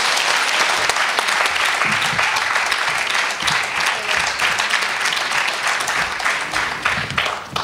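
An audience at a Somali week event applauds warmly and steadily as Ahmed Naji is welcomed to the stage, dense loud clapping filling the whole stretch without letup.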